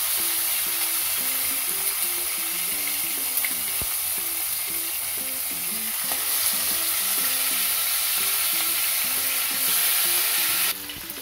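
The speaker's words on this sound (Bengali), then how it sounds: "মশলাটা একটু ঝেড়ে ঝেড়ে নিয়ে একটু ভাজতে দিয়ে দেবো" Marinated chicken for a restaurant-style chicken chaap fries in a pan with a loud, constant sizzle and bubbling, mixed with spatula stirring and scraping throughout; the sizzle cuts off abruptly near the end.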